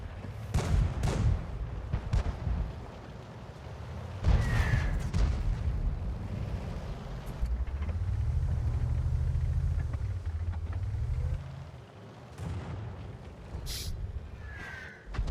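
Tank cannon fire and explosions in the World of Tanks video game, with a few sharp heavy blasts spread across the stretch and a low rumbling engine drone in between.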